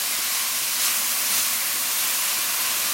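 Mushroom stuffing sautés in vegan butter, giving a steady, bright sizzling hiss that stays constant and close, with no talking.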